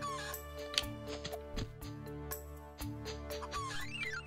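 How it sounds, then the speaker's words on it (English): Chickens clucking and a rooster crowing in the video game Petz Dogz 2, set over a steady, tonal game music bed, with bright chirps breaking through and no talking. "Chickens."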